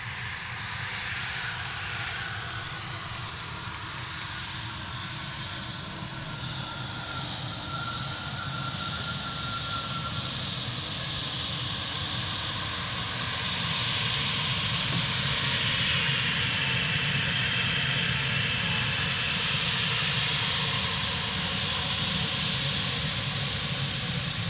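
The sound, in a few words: Air France HOP aircraft arriving at Manchester Airport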